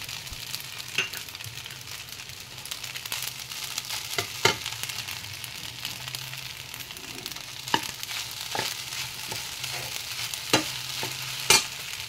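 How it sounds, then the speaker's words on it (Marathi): Sabudana khichdi with ground peanut powder is stirred in a pan, soft scraping and a low frying hiss punctuated by irregular sharp clacks of the spoon against the metal, close and steady. "तो घातल्यानंतर ते हलवून घ्यायचं, सगळं एकसारखं करून घ्यायचं"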